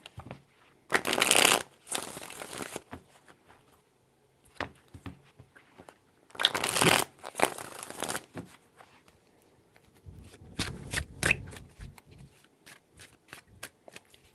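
Tarot cards are shuffled by hand in several separate bursts of crisp riffling and flicking, close and clear, with quieter handling taps between them and no talk.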